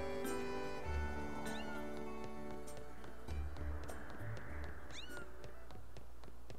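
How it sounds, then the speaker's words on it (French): Cat meowing in the Zelda Skyward Sword video game, several distinct meows spread across the clip over a steady game soundtrack, with no talk. "Ça miaule."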